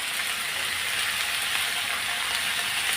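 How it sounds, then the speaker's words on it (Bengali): Goat meat seasoned with turmeric and salt frying slowly in a pan, giving a steady, even sizzle throughout, close and continuous with no voices. "এখন আমি এটা আস্তে আস্তে ভাজা হতে থাক"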